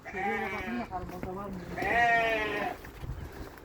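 Two drawn-out bleats from a nearby sheep, one short and one longer, wavering and loud, with a brief pause between them.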